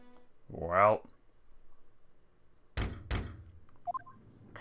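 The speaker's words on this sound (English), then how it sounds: "Knock, knock." Two firm knocks on a door in The Great Ace Attorney sound in quick succession, following a short spoken voice, with a faint chime after.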